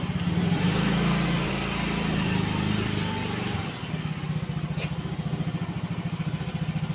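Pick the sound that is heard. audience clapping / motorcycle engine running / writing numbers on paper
motorcycle engine running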